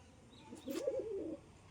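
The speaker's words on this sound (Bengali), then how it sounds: "এই যে সবকটা পায়রা খাওয়া দাওয়া করছে" A pigeon gives a short soft coo while a flock of domestic pigeons feeds outdoors, faint and close against quiet background noise, a single brief call.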